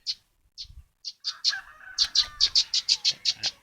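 A lined seedeater (bigode) sings in bright, sharp chirps, sparse at first and then a rapid, regular run of close, loud notes, with faint low background noise underneath.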